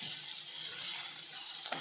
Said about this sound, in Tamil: நன்றாக வதக்கவும்.